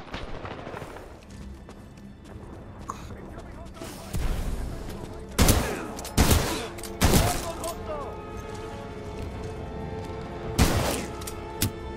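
Weapon fire in the video game Titanfall 2, several loud sharp bursts of shots punching through a busy game soundscape, spaced a second or so apart, with a voice talking at times.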